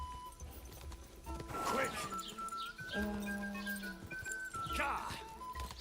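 A horse in the Kingdom Come: Deliverance 2 video game, with hoofbeats and a whinny heard through loud game background sound while someone shouts urgently over it.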